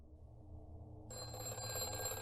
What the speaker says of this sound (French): Un bruit de téléphone.